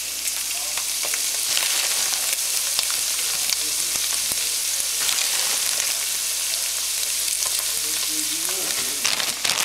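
Ground meat and peas frying in a pan for shepherd's pie, a steady close sizzle with occasional scrapes and clicks of stirring, no talking.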